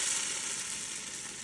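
A tomato, green chili and coriander mixture fries in a pot for chicken pulav, giving a steady, close, bright sizzle with no voices.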